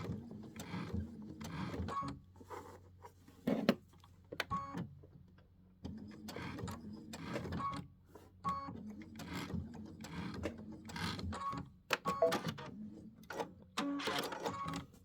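A sewing machine runs in repeated short bursts with mechanical whirring and clicking pauses between them, stitching dimensional flowers onto a wall hanging and sewing through tape. The machine is close and fairly quiet, with no voices.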